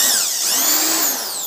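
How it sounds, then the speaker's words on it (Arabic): A Makita power drill spins at high speed, a close, loud, continuous whine with the pitch shifting slightly as it runs. "ولكن هو برضو بيشتغل شنيور في نفس الوقت."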